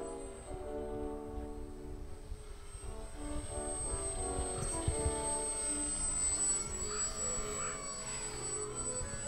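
Small radio-controlled fun-fly model airplane flying continuous loops, its engine a steady buzzing drone that holds moderately loud for the whole stretch, with slight swells in pitch and level as the plane turns overhead.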